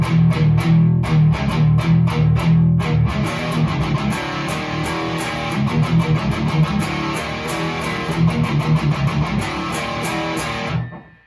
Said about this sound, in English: Thick, warm chugs. I'm in the red channel with a boost on the amplifier,